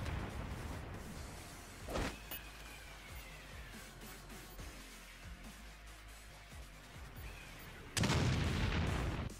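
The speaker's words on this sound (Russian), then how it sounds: "А гранаты взрываются приблизительно 3 миллиарда лет." Grenade explosions in the video game Umbrella Corps: one muffled boom early on and a louder, sharper blast near the end, with quieter in-game sounds in between.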